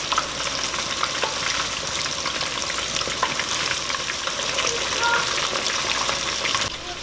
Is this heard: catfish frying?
yes